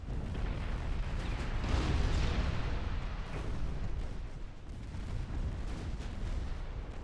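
Naval guns of the French ship Strasbourg fire during a game battle in the Sea of Japan, a dense rumbling barrage of booming blasts rolling on for several seconds, loud and continuous with no speech over it.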